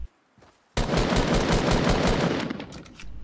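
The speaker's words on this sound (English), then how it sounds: "You're shooting at this guy." Rapid automatic gunfire from a Fortnite match bursts in loud and sustained after a short quiet start, a dense rattling stream of shots continuing to the end.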